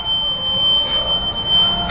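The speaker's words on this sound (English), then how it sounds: "Set the smoke alarms off." A smoke alarm sounds a steady, piercing high-pitched tone continuously, set off by a revving Lamborghini V12, whose low rumbling engine sits beneath it.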